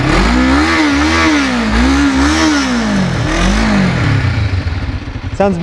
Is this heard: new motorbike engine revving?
yes